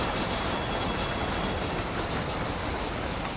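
Train rolling along the tracks in Red Dead Redemption, a steady, dense rumble with continuous rattling of the cars, loud and unbroken throughout with no talk over it.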